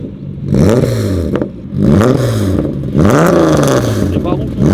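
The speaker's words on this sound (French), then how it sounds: "On va kiffer le bruit du moteur, bouge pas. Allez, démarrage du bolide" Volkswagen Golf 7R with a VR6 engine firing up and revving, three loud close revs climbing and falling with short gaps between them, and voices talking over the engine.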